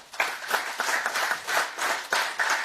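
Indoor audience at an Indo-American Chamber of Commerce inauguration claps for the Goa Chief Minister, a close, dense round of applause with bursts of hand claps rising and swelling throughout.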